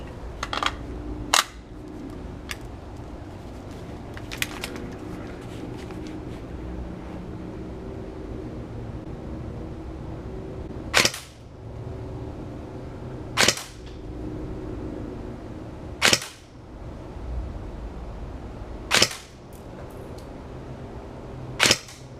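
An A&K Systema-clone airsoft rifle with a Polarstar engine fires a handful of sharp, separate shots spaced a few seconds apart outdoors over steady low background rumble.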